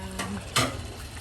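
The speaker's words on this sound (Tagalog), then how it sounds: "Haluin lang natin." A short scrape of a utensil stirring food in a pan, with a soft sizzle underneath and one brief louder scrape near the middle.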